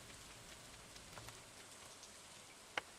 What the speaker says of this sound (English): Professor Snow, you standing out in the rain? You are.